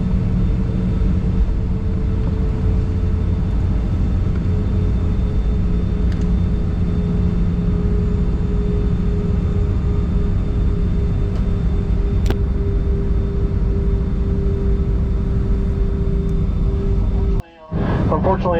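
A United airliner sits on the runway preparing for takeoff, a loud steady cabin rumble and engine drone running throughout, ending with a brief sharp clunk near the end.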